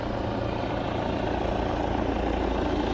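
A helicopter flies overhead, its rotor and engine making a loud, steady drone throughout, close and unbroken.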